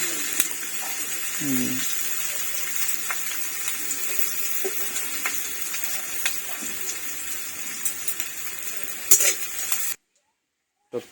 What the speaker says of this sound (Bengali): তো পেঁয়াজটা ভাজা হয়ে গেছে তাই তো